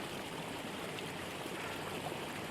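Water running down a road and spilling toward a roadside ditch, a steady, even rushing and trickling with no pauses, close and constant throughout.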